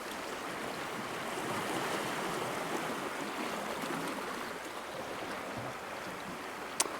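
Tide water rushes hard along the shore at Sully Island, a continuous broadband hiss and wash of flowing sea with wind, steady and fairly close, with a brief sharp knock near the end.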